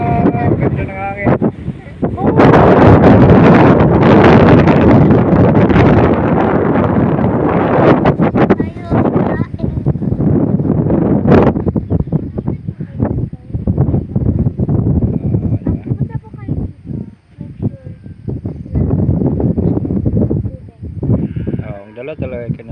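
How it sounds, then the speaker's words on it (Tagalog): Strong gusts of wind buffet the microphone outdoors near water and blossoms, a loud continuous roar with rumbling bursts, while people talk and exclaim over it. "Ganda ng hangin."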